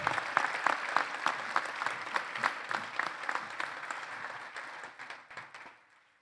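An audience at the Denver Health Paramedics awards celebration applauds its winners, distinct claps rising into a lively round that gradually thins and fades out near the end.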